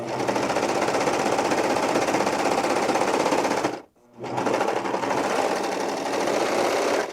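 A Baby Lock serger hums loudly and continuously as it sews a ruffle, stopping for a brief moment partway through and then starting again at full speed.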